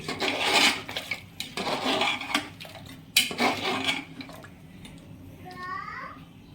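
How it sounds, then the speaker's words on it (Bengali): A spoon scrapes and stirs mutton curry in a pot just after water is added, giving rough, uneven rasping strokes with a few louder clanks against the metal, close by and fading to quieter stirring. "জলটা দেওয়ার পর এটাকে ভালোভাবে নাড়িয়ে নেব।"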